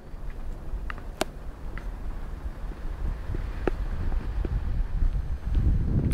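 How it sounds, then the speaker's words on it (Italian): Gusts of wind buffet a phone microphone outdoors, a rumbling low-end roar that swells and strengthens toward the end, with a few faint ticks and knocks scattered through it. "Ecco che arriva ancora un po' di vento."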